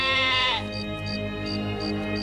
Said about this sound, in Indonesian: Mungkin kambing warga desa di bawah sana.